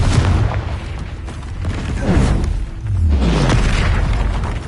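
Confringo blasting spell from Hogwarts Legacy detonates in deep booming explosions, several heavy blasts and rumbles in quick succession, loud and close with no talking.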